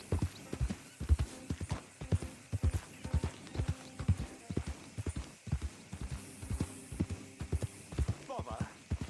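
Horse hooves clip-clop in a steady rhythm through Red Dead Redemption 2, near and clear, with a brief whinny near the end and short bits of talk over the trotting.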